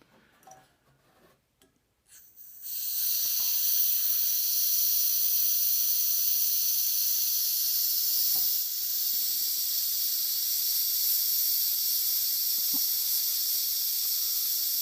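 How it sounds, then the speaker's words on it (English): Propane gas hissing out of a one pound bottle after its valve is pulled open, a loud, close, unbroken high hiss that starts suddenly after a few faint handling clicks and holds steady. "And it is letting the pressure out"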